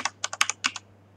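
Quick taps on a computer keyboard, about seven crisp clicks in a short burst, close by and in a quiet room with a low steady hum under them.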